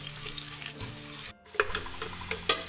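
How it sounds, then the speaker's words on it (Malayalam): Ingredients for a Malabar king fish biriyani sautéing in a pan until browned, a close, steady crackling sizzle with stirring scrapes, briefly broken by a short gap before the frying resumes. "അതൊന്ന് നല്ലപോലെ ഒന്ന് വഴറ്റിയിട്ട് ഏകദേശം ഒന്ന് ബ്രൗൺ കളറാവുന്നത് വരെ ഒന്ന് വഴറ്റി കൊടുക്കാം."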